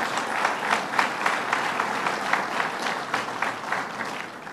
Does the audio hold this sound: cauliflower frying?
no